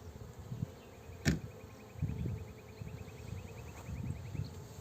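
Honeybees buzzing softly around an open hive during a queen inspection, a faint steady drone with a sharp brief knock near the start and low handling rustles throughout.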